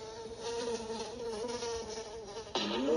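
Several flies buzz steadily close by around hay, a continuous droning whine with a louder buzz swelling near the end.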